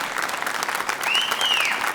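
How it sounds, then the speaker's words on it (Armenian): Loud applause from a studio audience greeting a strongman guest on an Armenian entertainment show, steady dense clapping throughout, swelling slightly toward the end. "մի հատ բարձր ծափահարություններ"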